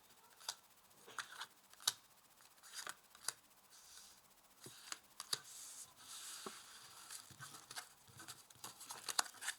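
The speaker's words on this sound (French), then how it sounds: "Je vais mettre 5 cartes ici pour les énergies principales." Tarot cards being laid out one by one on a table, with soft papery slaps, flicks and shuffling rustles scattered irregularly, quiet and close with no talking.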